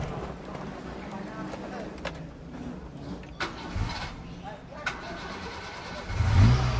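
A car engine cranks and turns over, rising into a rough idle near the end, with voices talking throughout.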